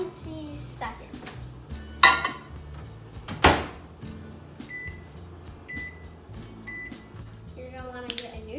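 A microwave oven heating chocolate in a bowl for 20 seconds, with a low steady hum under sharp clinks of dishes and the beeps and clunks of its door and buttons, and a voice speaking briefly.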